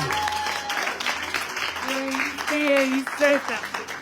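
A church congregation claps and cheers together, a dense crowd applause mixed with raised voices and tonal calls, loud and close.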